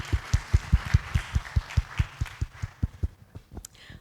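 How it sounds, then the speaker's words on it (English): An audience at a youth philanthropy gathering claps in unison, sharp beats landing in a brisk, regular rhythm about five per second and gradually softening toward the end. "Big applause for learning."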